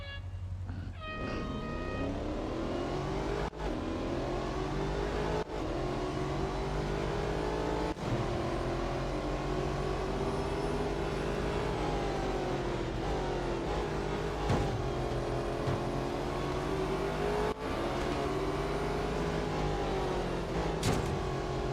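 Racing cars in Real Racing 3 roar through five laps of the Melbourne Cup, a steady, loud engine drone rising and falling in pitch with gear changes, broken by a few brief clicks, with no talk.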